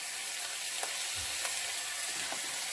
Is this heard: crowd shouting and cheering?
no